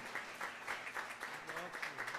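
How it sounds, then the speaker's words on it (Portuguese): Distant crowd applause at a solemn honorary citizenship ceremony in Assis, a dense patter of clapping with a voice speaking faintly over it. "mas uma salva de palmas, então, vai, por favor."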